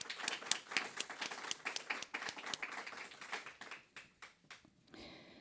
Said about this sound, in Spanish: pido también un fuerte aplauso